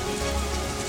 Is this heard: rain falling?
yes